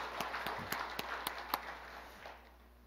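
Sparse applause from a Korean church congregation: a handful of distinct, separate claps spaced across two seconds, faint and distant, before trailing into quiet.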